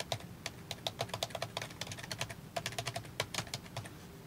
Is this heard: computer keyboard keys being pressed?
yes